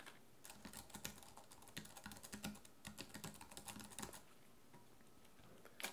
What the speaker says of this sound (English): what I'm going to demo for you is typing on it with the keyboard cover and then typing without